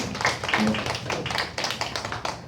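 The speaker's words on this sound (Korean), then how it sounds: "박수 소리가 별로 안 커요." A church congregation gives applause to the worship team, a dense, steady patter of many hands clapping in an indoor hall, with a faint voice mixed in.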